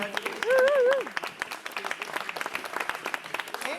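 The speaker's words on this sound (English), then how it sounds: "Give them all a big round of applause." An audience breaks into applause, a scattered burst of clapping that carries on under a voice talking over it.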